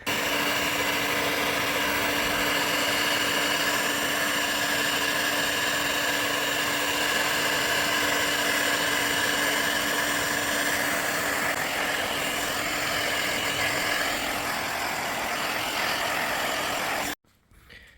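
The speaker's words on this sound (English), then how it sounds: "I'm going to make this older plastic rejuvenated and shiny with using heat gun" A heat gun blows continuously on the aged plastic of a Mercedes R170 SLK front bumper, a steady loud whirring hiss holding for about seventeen seconds before cutting off abruptly.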